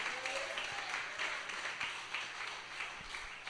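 Church congregation applauding at a worship service, a steady wash of many hands clapping at moderate distance with faint voices mixed in.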